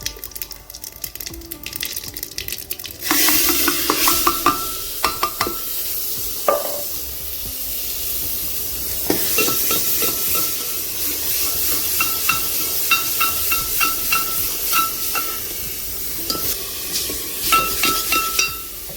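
Spice masala roasting in a pan for a milk-based pumpkin curry, after cumin seeds, crackling and sizzling loudly with steady hiss and repeated stirring scrapes, close and alone without speech.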